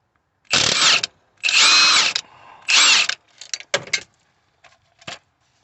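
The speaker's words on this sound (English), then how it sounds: "Got our Milwaukee gun here, M18, 18mm socket on the end there, and I'm just gonna put that on the end and we'll get it open." Milwaukee M18 impact gun with an 18mm socket loosening a crankshaft pulley bolt on a Peugeot 2008 1.6 HDi diesel: three loud close hammering bursts, then short trigger blips and rattles as the bolt spins free.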